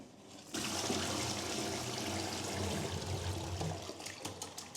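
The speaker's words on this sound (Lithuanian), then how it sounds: "Ir aš nuleisdama vandenį nuplaunu ir šepetį." Toilet flushes with a sudden rushing gush of water that stays steady and close, settling into trickling toward the end.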